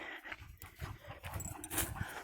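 A long-haired German Shepherd dog panting close by on a forest walk, quick rhythmic breaths at a faint level with no talk.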